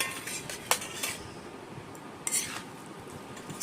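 Metal spoon clinking against a dish of Maggi noodles with egg and soybean chunks, a few sharp light clinks and scrapes spread over a few seconds, close by with no talk.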